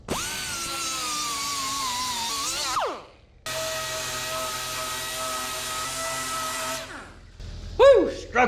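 Angle grinder works weld off the top of a metal flat dump bed on a 1963 Loadstar truck, two long, loud, steady high-pitched whines separated by a brief pause, then scraping and clanking.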